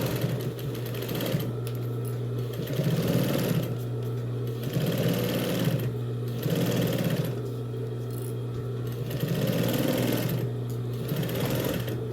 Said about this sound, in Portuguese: Tô usando o pezinho de máquina normal